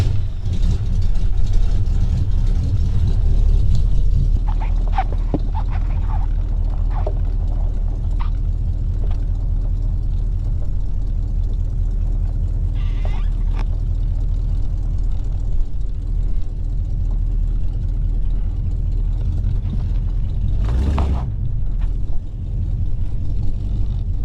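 A Chevrolet C10 truck engine runs as the truck drives, giving a steady, loud, low rumble throughout with faint rattles on top and no talking.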